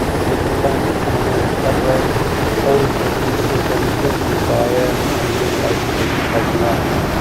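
An Mi-8 helicopter flies in the DCS World combat simulator, its rotor and turbine drone loud and unbroken throughout, with a voice speaking over it.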